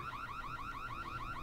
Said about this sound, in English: Apparently we set off the alarms